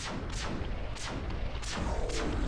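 A cannon tower in the tower defense game Defense Task Force fires four evenly spaced booming shots over a low, constant rumble of battle noise.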